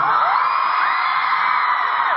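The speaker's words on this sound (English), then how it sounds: "I look out here and see a lot of people dancing and screaming." A concert audience screams and whoops continuously, a dense, loud wall of high-pitched cheering from a large crowd that holds steady throughout without pause.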